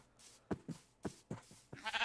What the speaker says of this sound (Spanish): Ah, no, son ovejas, calla.